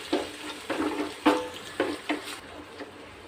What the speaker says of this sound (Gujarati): ત્યારબાદ આપણે એમાં ડુંગળી સાતળી દઈશું થોડી।